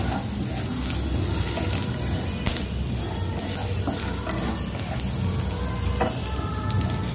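Spices stirred in a hot frying pan for a potato and pumpkin curry, with a steady close sizzle and repeated scraping strokes of the spoon throughout.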